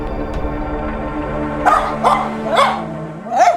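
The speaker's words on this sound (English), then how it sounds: "he's gone from just a little bit of whimpering to barking to howling" A stressed dog left alone behind a closed door barks and yelps in four spaced bursts, rising toward a howl, loud and close with no talk.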